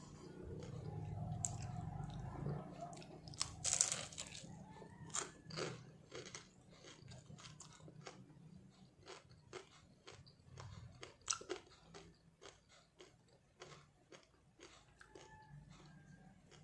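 Someone bites into and chews a crisp vegetable lumpia spring roll, with close, repeated crunching and wet chewing in an irregular rhythm throughout, fairly quiet overall.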